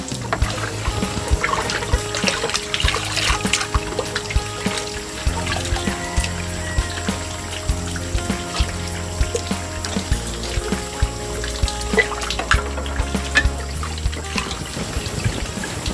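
Water runs and trickles steadily while dishes are washed at a waterfall in a forest, a close, continuous pouring sound with scattered splashes and clinks throughout.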